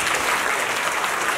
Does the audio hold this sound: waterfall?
no